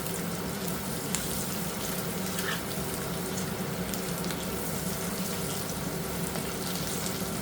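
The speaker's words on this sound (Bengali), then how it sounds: "ডিমগুলো লাল লাল করে ভেজে নেই" Eggs frying in a pan until browned for a home meal, a steady continuous sizzle and crackle that stays even and close throughout with no voices.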